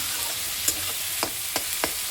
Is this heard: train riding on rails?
no